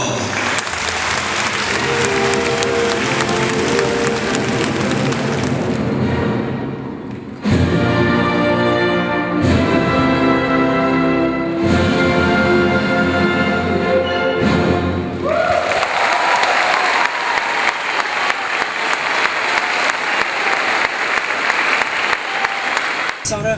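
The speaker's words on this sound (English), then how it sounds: "So let's give them one more round of applause." Sustained, loud applause from a concert audience for a youth orchestra on tour in Asia, a dense wall of clapping that keeps going, with a brief dip and a swell of cheering in the middle.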